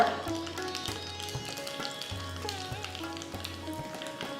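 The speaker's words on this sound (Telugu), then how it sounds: "సో ఆవాలు చిట్టపట్లాడుతుంది" Mustard seeds splutter in hot oil with a steady close sizzle and crackle that runs through the whole stretch, with no talk over it.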